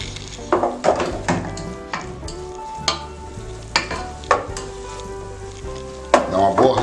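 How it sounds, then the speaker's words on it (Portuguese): Garlic cloves sizzle steadily as they fry in a hot pan, with a continuous crackle and occasional stirring clinks. "Então agora nós vamos fritando."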